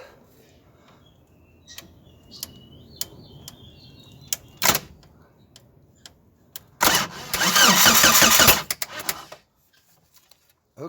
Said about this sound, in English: Okay, there's something, but it's a backfire, so I need to again check the timing.